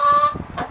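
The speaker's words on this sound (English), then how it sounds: "currently outside in my backyard, here are my chickens" Backyard chickens give a short burst of clucking up close, a brief loud call followed by softer clucks.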